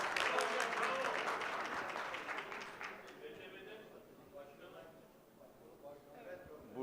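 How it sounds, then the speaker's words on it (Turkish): Audience applause greets a company board chairman invited on stage for a presentation on metro tunnel ventilation, loud for the first three seconds, then thinning and fading as a voice begins speaking. "Alkış."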